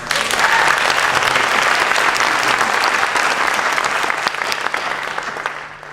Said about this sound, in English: can we all just give her a round of applause?